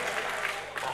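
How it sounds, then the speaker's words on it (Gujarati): A crowd of listeners at a folk dayro programme in a society-organised Siddheshwar Mahadev temple event claps together, a brief dense burst of applause at moderate level. "એમને પણ એકવાર જોરદાર તાળીઓના ગગડાટથી વધાવો"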